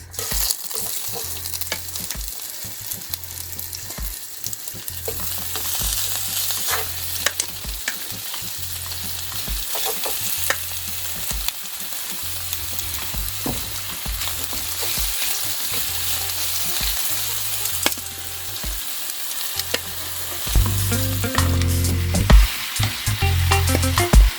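Curry goat meat and seasoning sizzle hard in a small pot, a loud continuous frying hiss with rhythmic stirring and scraping throughout, close up with no talking.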